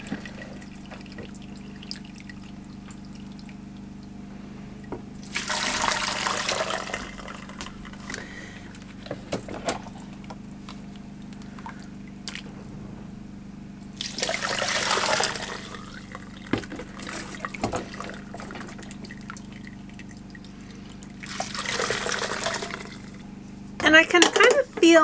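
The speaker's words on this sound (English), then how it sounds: "I'm just going to strain this into a pot." Homemade broth strained from a pot into another pot, pouring in three separate splashing bursts of liquid over a steady low hum, with brief quieter pauses in between.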